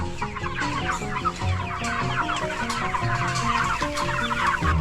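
A flock of farm chickens kept in mobile chicken tractors clucks constantly and busily, close and overlapping, with no pauses.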